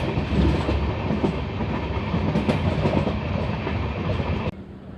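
A passenger train rolls steadily on its rails near Bareilly Junction with a loud, continuous rumble and rhythmic clatter that drops off sharply near the end.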